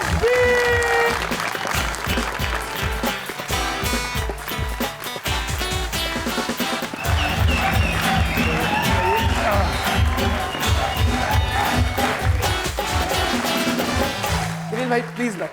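A television studio audience on a talk show claps and cheers to welcome a guest, dense sustained applause lasting the whole stretch with crowd noise mixed in.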